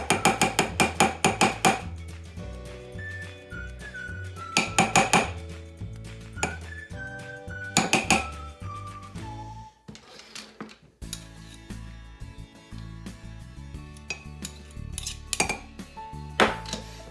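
A spoon stirs Nutella mug cake batter in a mug, producing bursts of rapid ceramic clinks and scrapes between pauses, close and crisp, with faint musical tones underneath.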